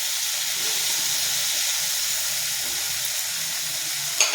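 Vegetables with salt and turmeric frying steadily in a pan, a continuous loud sizzle and hiss with no voices, then a brief knock near the end.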